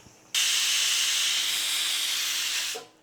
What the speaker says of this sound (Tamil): விசில் வந்துருச்சு